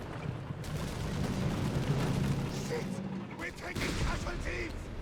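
In the Company of Heroes 3 strategy game, a battle plays out with dense rattling gunfire and repeated booms from anti-tank guns, running continuously under a commentator's steady talking.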